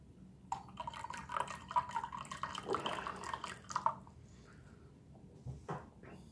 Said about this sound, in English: I think I'll add a little bit more water to that.